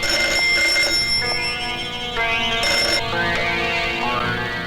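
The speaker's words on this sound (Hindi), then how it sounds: "शायद उसी का फोन हो।" A telephone rings in a tense domestic scene, its bell tone repeating steadily for several seconds, loud and close over a dense musical backdrop with no voices.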